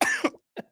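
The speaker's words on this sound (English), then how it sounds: "You're coughing." A single person coughs sharply and close up, a harsh burst followed by a second brief cough after a short pause.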